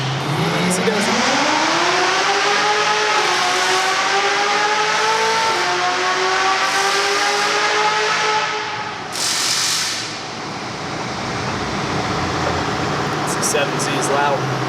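A 427 Heads Cam convertible's engine revs hard on a dyno, a loud rising roar that climbs steadily in pitch, then eases off near the end; a few short bursts of noise cut through, with no clear talk.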